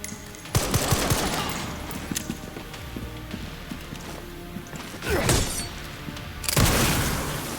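SMG fire in Resident Evil Requiem: a few short loud bursts of submachine-gun shots with sharp cracks and clatter, set against game ambience, with no voices.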